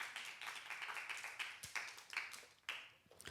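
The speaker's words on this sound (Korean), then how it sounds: "큰 박수를 올려드리겠습니다." A church congregation at an autumn revival service gives a short round of applause, scattered claps sounding faint and somewhat distant in a large hall.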